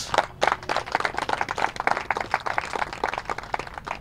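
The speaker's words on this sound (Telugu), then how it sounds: "Claps please." A seated audience at a gathering on chemical-free farming claps in a brief round of scattered, moderately loud hand claps, individual slaps distinct rather than blended into a roar.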